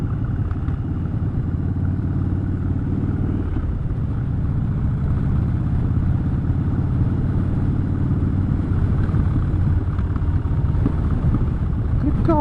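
A Harley motorcycle carrying a pillion passenger rides along a road, its engine a continuous low, loud rumble with steady road and wind noise throughout.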